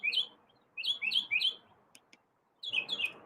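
Bird chirping in bright, quick bursts of several tweets, close and clear, with short pauses between the groups and quiet between them.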